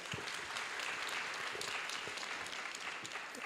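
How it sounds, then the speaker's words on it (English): Applause from an audience at a university event honouring a guest speaker, a dense, continuous wash of clapping heard from a distance, fairly faint and steady throughout. "Let's give him another round of applause"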